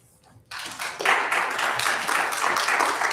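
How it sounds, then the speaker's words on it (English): Audience applause breaks out in a city council chamber in Lynchburg after a public comment, a dense burst of many hands starting abruptly and holding steady and fairly loud for a few seconds. "All right, no clapping,"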